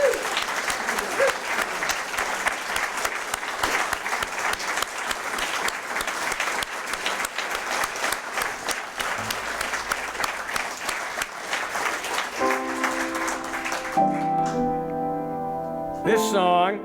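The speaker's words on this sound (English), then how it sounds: "Let's have another round of applause for these great musicians." Audience applause for a group of musicians, steady and loud for about fourteen seconds, then giving way to sustained instrumental music as the next song begins.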